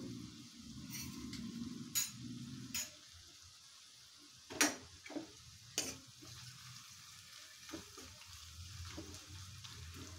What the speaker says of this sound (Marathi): कांदा चांगला गोल्डन ब्राऊन होईपर्यंत भाजून घ्यायचा आहे व्यवस्थित, कमी गॅसवरच